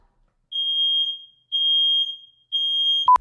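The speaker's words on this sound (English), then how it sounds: "there's smoke in the dining room. The alarm may sound. It's going to be loud." Three loud, piercing electronic beeps from a smoke alarm set off by fog from a tiny fog machine, each about half a second long and evenly spaced, followed by a sharp click.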